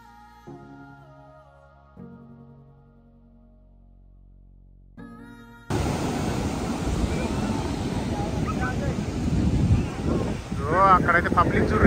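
Ocean surf rolls onto a private resort beach in Goa, a loud steady wash with heavy wind buffeting the microphone, starting abruptly after a few seconds of quiet tonal music.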